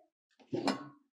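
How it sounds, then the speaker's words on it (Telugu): A metal pressure cooker is set down on a stovetop in a home kitchen, making one short clattering clunk of metal on metal with a little ringing after it. "కుక్కర్ పెట్టు."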